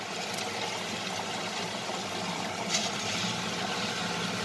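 A wet grinder churns soaked rice into idli batter with a continuous low mechanical whir and a watery swishing, steady throughout with a faint knock midway; no voices are heard.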